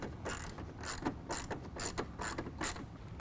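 A ratchet wrench tightens 8mm bolts while SPEC-D black DRL projector headlights are installed on a car, giving about six quick, close bursts of clicking in a steady back-and-forth rhythm.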